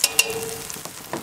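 Tomato paste roasting in a Dutch oven, a brief close sizzle and frying crackle with a few light scraping stirs.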